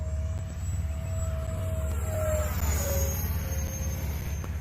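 An E-flite Viper RC jet passes slowly overhead, its steady electric ducted-fan whine sliding gently downward in pitch over a constant low rumble, loud throughout with no voices.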